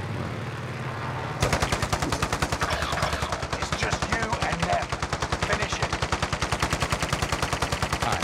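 Rapid automatic gunfire in a multiplayer shooter video game erupts suddenly and runs as a loud, unbroken stream of closely spaced shots for roughly seven seconds.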